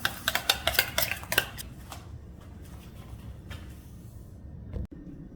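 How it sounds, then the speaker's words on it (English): A utensil stirs seasoning into crab cake mixture in a bowl, giving a burst of quick clinking scrapes at the start that fade into soft, duller rubbing, with one sharp knock near the end. "Give that a stir."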